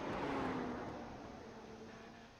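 A number 43 race car at Hickory speedway passes on track during qualifying, its engine note loud at first then fading steadily into the distance, heard alone.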